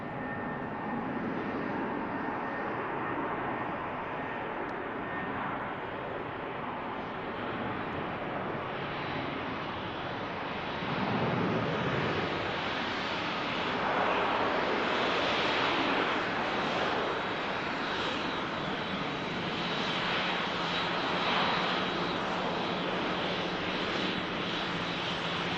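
A Lufthansa airliner, an A321, takes off at Manchester Airport, a loud sustained jet engine roar that builds and peaks midway as it passes, then stays strong while it climbs, with no talking.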